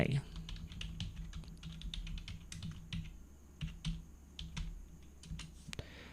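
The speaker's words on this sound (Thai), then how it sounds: "จากนั้นก็พิมพ์ข้อความที่ต้องการลงไป" Typing on a computer keyboard, a close run of uneven key clicks and taps in quick bursts with short pauses, with someone speaking over part of it.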